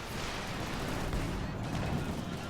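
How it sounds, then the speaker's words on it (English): An artillery barrage in the strategy game Company of Heroes 2 produces dense, continuous rumbling blasts and crackling gunfire that stay loud and unbroken throughout. "No, he's aiming for a barrage."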